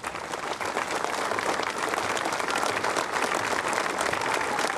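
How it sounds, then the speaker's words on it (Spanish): Sustained applause from mourners at the funeral of murdered police commander Jorge Flores, dense and even clapping that holds steady for several seconds. "les pido un aplauso para el comandante Jorge"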